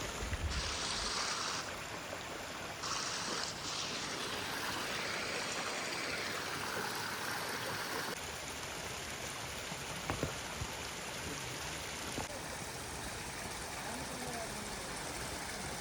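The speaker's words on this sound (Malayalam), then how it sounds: "നമ്മളിപ്പം സ്ട്രീമിൽ നിന്ന് വെള്ളം എടുക്കാൻ പോവാണേ" A cold, fresh mountain stream on a high-altitude lake trek near Manali, its broadband rush of flowing water steady and close, with a few brief knocks and shifts in level along the way.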